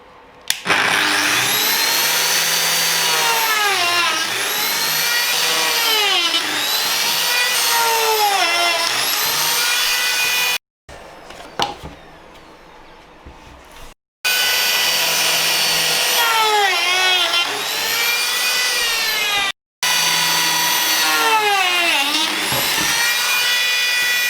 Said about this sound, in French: J'ai placé mon rail comme je vous ai expliqué, la lamelleuse à fleurs. On démarre et on y va.